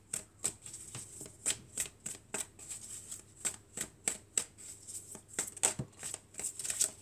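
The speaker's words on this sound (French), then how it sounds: "on va prendre quelques cartes de mon oracle et on va voir ce que ça dit." Oracle cards being shuffled by hand, a quick series of crisp, papery riffles and flicks at an irregular rhythm, close and fairly quiet, with no talking.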